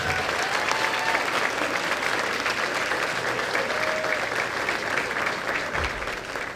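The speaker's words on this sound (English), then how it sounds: "Now, you can start clapping now." Sustained applause from a graduation audience honoring an 8th grade class, dense steady clapping throughout with crowd murmur underneath.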